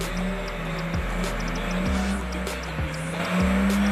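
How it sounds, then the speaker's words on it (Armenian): Two race cars warm their tyres and launch at the start, loud engine revving with repeated rising gear-change sweeps and tyre squeal, close and continuous with no talk. "Անիվները տաքացնելուց հետո տրվում է մեկնարկը։"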